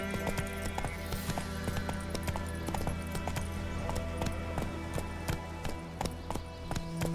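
Roach the horse gallops in The Witcher 3, a rapid, steady clip-clop of hooves with a constant rolling rhythm, close and loud over a humming game backdrop.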